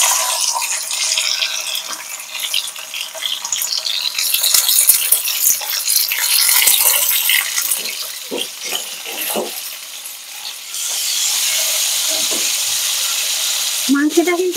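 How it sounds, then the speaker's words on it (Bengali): Pieces of meat fry in a pan, sizzling and crackling steadily at close range, with clinks and scraping as they are stirred and a louder hiss building toward the end. "আমি প্রথমে এই মাংসটাকে ভেজে নেব।"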